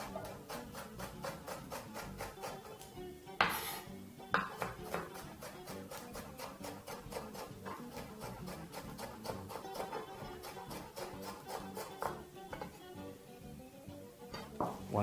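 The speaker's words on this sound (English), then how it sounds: "we're just going to proceed to chop that" A knife chops a leek on a cutting board in a fast, steady run of sharp, close taps that keeps going for about fifteen seconds, with a few louder knocks along the way.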